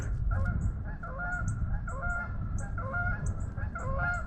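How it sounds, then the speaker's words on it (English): Several geese honking repeatedly near a Tennessee fishing bank in winter, a run of loud nasal calls in quick, uneven bursts over a low background rumble. "Here comes a goose at the same time."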